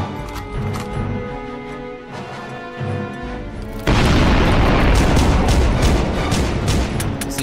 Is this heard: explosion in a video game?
yes